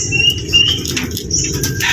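Racing pigeons' wings flap in a fluttering rush close by inside a loft, mixed with scattered chirps and whistles from the birds.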